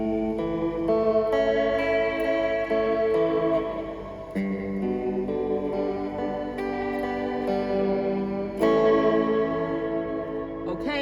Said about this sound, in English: now going back to 2 digital, the lo-fi digital sound